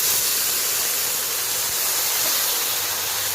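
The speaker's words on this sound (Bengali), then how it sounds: "অল্প গরম জল ব্যবহার করলাম।" Warm water poured into a pan of softened tomato-onion masala for a fish curry, a steady, loud hiss and rush of water meeting hot oil that holds constant throughout, with no talk.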